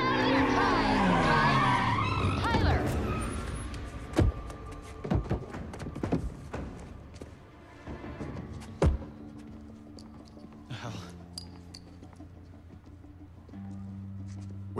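Unmarked Camaro police cars chase in Need for Speed Payback, with loud tire squeals and skids fading into a series of sharp thuds and impacts over a low engine hum.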